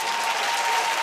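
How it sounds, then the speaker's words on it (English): Comedy club audience clapping in a brief, dense burst of applause, loud and continuous for about a second with no voices over it. "Clap if you hate that shit."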